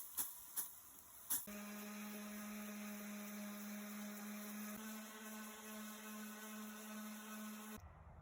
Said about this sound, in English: Let's hose it off and sand it down.